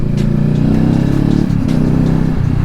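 Kawasaki Ninja 650 motorcycle with an aftermarket Exil exhaust with the baffle removed, riding along with a steady, loud, low engine drone that holds evenly throughout, with faint ticking on top.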